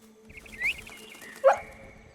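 A little puppy in the video game Neva gives two short, high yips or whimpers, the first soft and the second louder, each standing alone against a quiet game backdrop.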